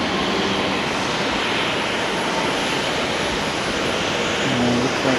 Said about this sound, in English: We're getting a few landings now.